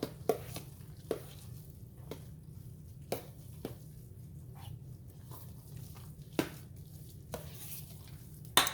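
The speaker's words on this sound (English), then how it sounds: "let me get this stirred in" A spoon stirs ingredients for chicken and dressing in a pan, with sharp scraping clicks at irregular intervals over a low, steady background hum.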